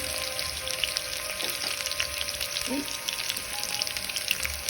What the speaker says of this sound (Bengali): কিছু পেঁয়াজটা দিয়ে দিচ্ছি একটু নেড়ে নিয়ে গোল্ডেন ব্রাউন হয়ে যাবে